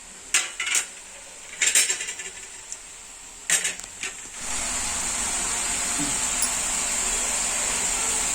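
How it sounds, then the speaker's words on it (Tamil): Butter murukku dough pressed through a star mould drops into hot oil, a few clinking handling knocks giving way to a steady, even frying hiss on medium flame. "நம்ம முறுக்கு புழிஞ்சு விட்டாச்சு எண்ணெயில்."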